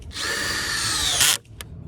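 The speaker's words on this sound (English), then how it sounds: "Time to get the drill out and actually tie all this together." A power drill drives into the wood of raised allotment planters with a loud, steady high whine for about a second, then stops abruptly, followed by a short clack and quiet surroundings.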